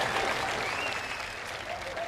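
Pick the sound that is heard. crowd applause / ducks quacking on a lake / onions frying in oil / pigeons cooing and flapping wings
crowd applause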